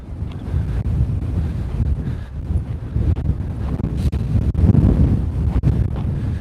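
Strong wind buffets a handheld microphone outdoors, a loud, steady low roar with gusty surges and rumbling bursts throughout, and no voices.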